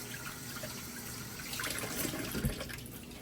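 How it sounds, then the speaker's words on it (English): A kitchen tap runs quietly and steadily, with water splashing over a hand being rinsed, growing slightly louder midway. "I'm gonna rinse out my hand."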